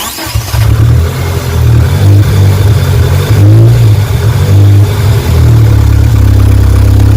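A car fitted with a Haltech Elite 1500 ECU fires up on a start button and settles into a loud, steady idle with a slightly uneven, lumpy rumble, close up and alone.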